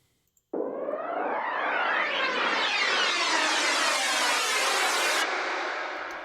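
A dubstep synth patch built in Logic Pro X with a shifted filter cutoff and modulation delay enters abruptly and holds one bright, sweeping, echoing tone for about five seconds before its top end cuts away and it fades.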